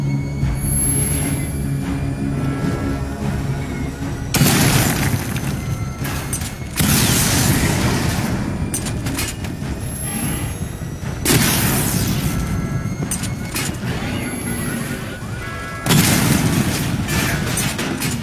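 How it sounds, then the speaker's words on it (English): Heavy weapon fire booms and rumbles in the Batman Arkham Knight video game as targets are destroyed, with loud surges of blasts recurring every few seconds over a constant mechanical drone. "Destroy targets to charge up weapon energy and activate missile barrage."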